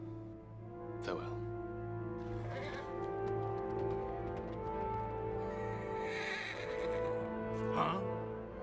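Horses neigh and whinny in the Lego Lord of the Rings video game on PS3, with several high, shrill calls spaced across a steady game soundscape.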